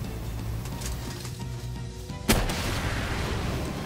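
A single sharp rocket blast from a weapon in the video game Palworld bursts out partway through, over steady background game noise with no talk.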